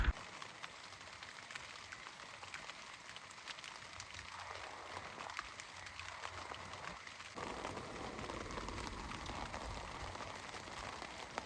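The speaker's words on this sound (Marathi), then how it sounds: "भरपूर म्हणजे भरपूर पाऊस आहे" Heavy monsoon rain pours onto a camping tent, a steady, faint, even hiss that continues unbroken from start to end.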